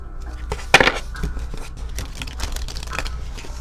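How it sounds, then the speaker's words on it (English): An oracle card deck is shuffled by hand, giving close papery riffles and crinkly rustles, with one louder flurry of card snaps early and softer repeated flicks after it, and no speech. "And let's just shuffle here."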